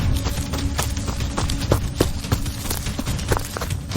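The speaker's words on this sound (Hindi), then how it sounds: "घोड़ों की आवाज नजदीक होती लग रही है।" Horse hooves clip-clop in a quick, irregular rhythm close by, a series of sharp knocks over a rough background, with no voices.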